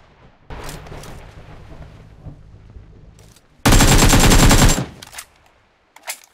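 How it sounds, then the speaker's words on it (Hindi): Video game gunfire with a loud, dense burst of rapid automatic shots lasting about a second, preceded by quieter in-game rumbles and movement sounds, and followed by a faint short crackle near the end. "मुझे यहाँ पे गोली चलने की आवाज आई थी"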